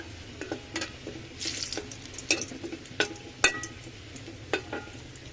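Onions sizzle and fry in hot oil for khichuri, with a soft steady crackle broken by sharp clinks and scrapes of a spoon stirring against the pan.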